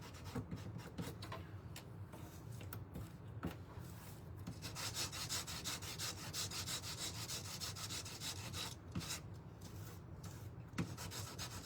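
Steady back-and-forth rubbing as a small wooden piece from a DIY kit house is sanded by hand, faint and close, with occasional light knocks.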